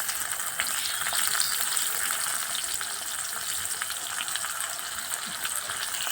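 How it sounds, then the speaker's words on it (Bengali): Chopped onion fries in hot oil with cardamom, cinnamon and cloves, a steady close sizzle and hiss running unbroken throughout without voices. "পেঁয়াজটা ভালো করে ভেজে নেব"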